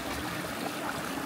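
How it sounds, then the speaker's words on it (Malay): A small stream trickles and flows near a rest stop in Wadi Nouman, a steady close water burble with no voices. "dekat sini ada sedikit anak sungai lah, ibarat anak sungai"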